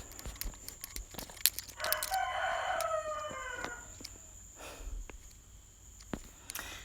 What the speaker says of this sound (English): Please ignore all the cock crowing.